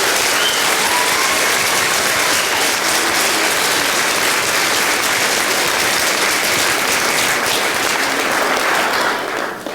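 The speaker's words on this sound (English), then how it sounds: "give them a round of applause one more time" Audience applause at a community celebration after a student song: sustained loud, dense clapping for nearly ten seconds that fades slightly at the end.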